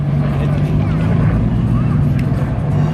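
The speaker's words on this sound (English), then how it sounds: "Oh, and the Eagle Low Drag GT." The Eagle Low Drag GT pulls away at the Goodwood Festival of Speed, a close, steady engine drone over outdoor crowd murmur with a voice speaking above it.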